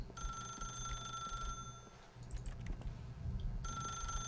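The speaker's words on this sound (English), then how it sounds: "Just gonna wait for it to ring, huh?" A telephone rings in the video game The Stanley Parable, a repeating electronic ring in bursts with pauses between, steady and fairly close over a low background hum, with no talk.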